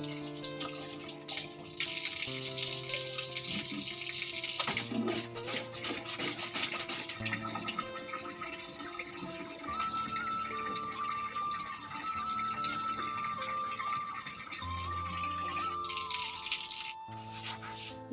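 Tap water runs steadily into buckets being filled for a small tiled home, a continuous close splashing stream that shifts in pitch as each bucket fills.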